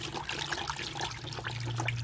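Liquid solution poured and stirred into rice bran, a soft continuous wet trickle and swish with faint mixing texture, close by and steady throughout, no talking.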